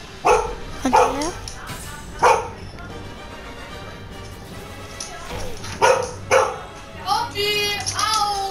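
Bobby, a pet dog, barks in several sharp, loud bursts spaced irregularly, with yelps and a whimpering whine near the end, while someone talks over and between the barks.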